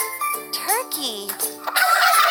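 Short, bright turkey gobble from a kids' educational animal puzzle game, heard close with a quick chime sparkle at the end.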